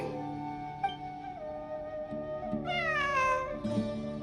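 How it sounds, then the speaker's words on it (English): A cat in the video game Genshin Impact gives several meows, some short and some rising and drawn out, at moderate volume over a quiet background. "It really is a cat."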